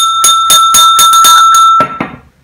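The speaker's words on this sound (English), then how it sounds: "If you collect bells, listen to this." A 1972 Hammersley annual bell of fine bone china rings in a quick run of about eight bright, clear strikes, loud and close, each tone ringing on and the last ones fading out.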